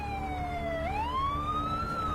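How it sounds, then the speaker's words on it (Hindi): An ambulance siren wails close by, its tone sliding down, then sweeping back up and gradually climbing, loud and continuous over a low background rumble. "वो देखो, एक एम्बुलेंस आ रहा है।"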